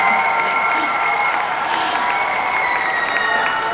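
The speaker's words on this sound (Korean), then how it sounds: "여러분 큰 박수 부탁드립니다." Audience applause during an outdoor open talk at the Busan International Film Festival for the film Broker, a dense, loud, continuous patter of clapping with some cheering and faint shouts mixed in throughout.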